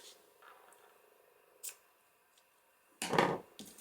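Scissors snip through paper or card for a journal booklet, a couple of quiet crisp cuts close by, the main one a brief rustling snip near the end.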